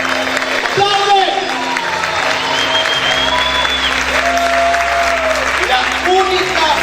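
A church congregation claps loudly and continuously while music plays, with sustained organ or keyboard tones and voices rising over the steady applause.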